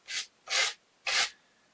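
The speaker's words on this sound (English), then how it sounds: "I've got a bit of sanding paper here. Some of the edges are still a bit rough." Sandpaper rubs along the rough edges of a board on an O gauge model railway diorama in three short, close, raspy strokes separated by brief pauses, with no talking.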